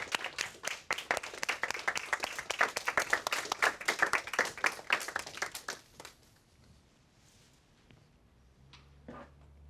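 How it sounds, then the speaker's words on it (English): An audience gives a big round of applause to a guest speaker, dense loud clapping for about six seconds that then stops abruptly, leaving quiet room sound with faint brief noises. "we're going to give him a big round of applause"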